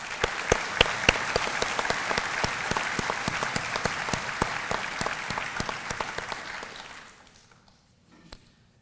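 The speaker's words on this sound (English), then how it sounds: "Please join me in a round of applause." Audience applause at a Virginia Beach police academy graduation ceremony, steady clapping with a few sharp individual claps standing out, sustained for about seven seconds before fading to quiet with one late clap.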